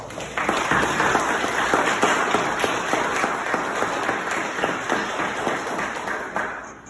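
An audience at a motivational talk for a youth group gives a round of applause, sustained clapping with distinct individual claps audible, holding steady for several seconds before tapering off at the end.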